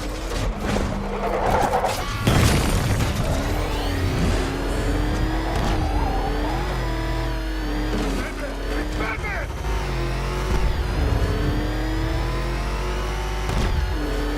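A car drives and revs in Batman Arkham Knight, its engine rising and falling loud and close while voices talk over it.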